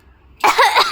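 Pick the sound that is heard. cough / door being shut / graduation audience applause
cough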